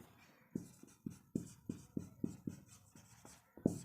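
Chalk or marker strokes scratch across a classroom board during a chemistry lesson, a quiet series of short, sharp taps and scrapes in an uneven rhythm, roughly a dozen strokes with brief pauses between them.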